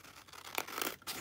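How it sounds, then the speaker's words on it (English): Paper is torn off in a couple of quick, quiet rips, brief bursts of crisp tearing close by with short gaps between them. "Let's tear that off there."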